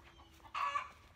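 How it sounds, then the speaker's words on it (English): Free-ranging backyard chickens clucking in a front yard, a short burst of a single bird's call rising suddenly and holding for about half a second, fairly faint and heard alone. "Our chickens are free ranging at the moment."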